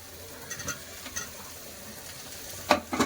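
Fried potatoes go into a sizzling spice masala in oil, giving a quiet, steady frying hiss with a few soft stirring clatters and a sharper sizzle burst near the end.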